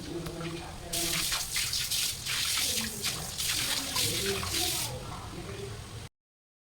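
Tap water runs steadily into a sink while large vessels are washed at night in a home kitchen, a broad hiss that begins about a second in and continues with clatter until it cuts off. A voice talks over it.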